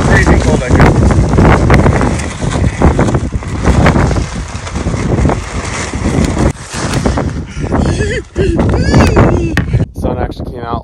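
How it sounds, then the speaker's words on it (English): Strong, freezing wind gusts roar steadily across a microphone at a winter campsite in the Owyhee Mountains, loud and buffeting, with brief dips in between. "You see how windy it is?"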